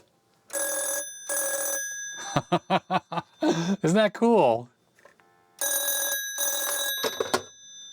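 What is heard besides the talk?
telephone ringing on office phone system extension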